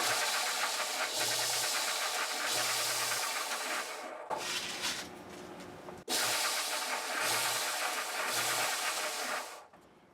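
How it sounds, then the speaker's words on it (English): A radius disc sander works a guitar part, its broadband grinding roar switched on and off by foot pedal in repeated cycles, with short quieter gaps between bursts and a sharp stop near the end. "Another job for the radius disc sander. So I'm cycling this with the foot switch."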